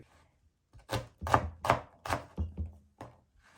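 A knife chopping red onions on a cutting board for homemade salsa, about eight crisp, close thunks in an uneven run with no talking.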